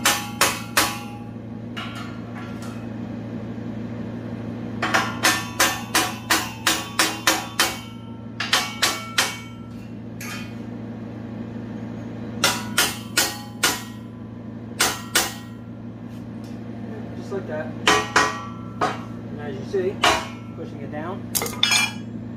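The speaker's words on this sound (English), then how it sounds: "Take a hammer and tap it." A hammer taps wooden boards into place on a Farmall hauler trailer ramp, sounding as sharp, close knocks in quick runs of several strikes separated by pauses, over a steady low hum.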